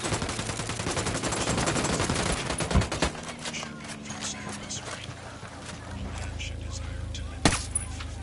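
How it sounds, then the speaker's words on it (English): Heavy gunfire in the video game Ghost Recon Wildlands: rapid automatic bursts rattle for about three seconds, then give way to scattered single shots and a sharp late report over a steady low background. "Opening fire."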